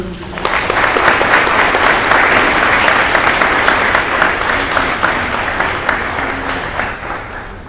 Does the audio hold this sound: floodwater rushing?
no